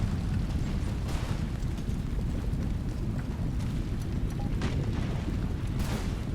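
Cannons thunder in a Napoleonic-era Prussian battle game, a dense continuous rumble of booms and distant blasts rolling on without pause, with a few sharper cracks rising above it.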